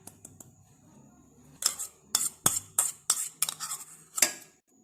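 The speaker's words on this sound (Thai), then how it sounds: "จากนั้นนะคะเราก็นำมิกซ์เบอร์รี่แช่แข็งมาใส่ในหม้อที่เราเตรียมไว้ค่ะ" Frozen mixed berries tumble into a cooking pot, giving a quick series of sharp, close clinks and clatters that get denser toward the end, with no voices.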